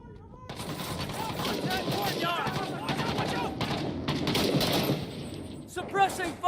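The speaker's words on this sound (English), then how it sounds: "Pin enemies in place with suppressive fire while you flank." Dense gunfire rattles through a realistic military video game, with rapid bursts and sustained automatic fire blending with battle noise while a voice talks over the shooting.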